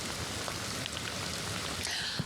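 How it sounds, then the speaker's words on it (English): Heavy rain pours down in Ventura during flooding, a steady, dense hiss of drops hitting surfaces throughout, fairly soft and unbroken with no voices. "You can see that there is already rain coming down hard here in Ventura"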